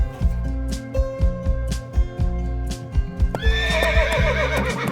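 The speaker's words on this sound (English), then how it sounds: "The Camargue Stallion." A grey Camargue stallion, the ancient breed of southern France, lets out loud repeated whinnies over a steady, rhythmic clip-clop of hooves close by.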